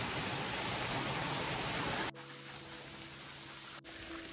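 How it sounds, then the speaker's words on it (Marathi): Heavy rain pours through the Matheran hill-station forest, a dense steady hiss that drops abruptly to a softer patter with a faint tonal hum partway through. "पाऊस आलाय मोठा"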